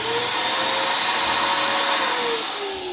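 A vacuum cleaner runs steadily close by, sucking debris out of the engine intake ports on a BMW E60 with the N54 engine, a continuous whining roar whose pitch shifts slightly as the nozzle moves.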